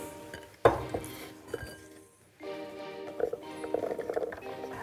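Beetroot, garlic cloves and drained chickpeas tipped into a bowl, with a sharp clink as they land followed by scattered clinks and a brief pause, then rattling and tapping of the bowl.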